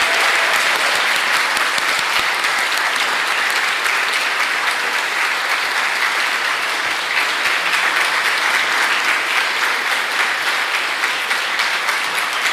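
Steady, sustained audience applause for scholarship recipients at a Martin Luther King Jr. scholarship award event, an even roar of many hands at moderate level lasting the whole stretch without pause.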